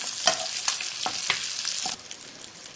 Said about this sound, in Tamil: இப்போ இந்த கருவேப்பிலை நல்லா பொரிஞ்சு ரெடி ஆயிடுச்சு.